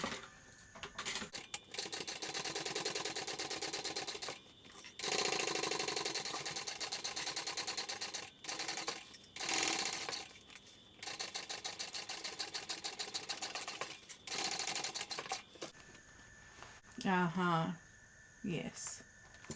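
A sewing machine runs in long, fast bursts of rapid mechanical stitching along a thick backpack seam, stopping and restarting several times, with a voice talking during a pause near the end.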